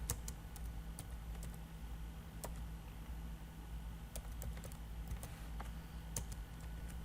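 Steady clicking of computer keyboard keys while Java database code is typed, irregular bursts of keystrokes at close range with no voices.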